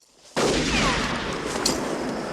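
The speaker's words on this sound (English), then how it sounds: "somebody's shooting at us" Gunfire erupts suddenly in a film scene on horseback, a loud, dense burst of shots that starts after a brief quiet and keeps ringing steadily to the end, with no talking over it.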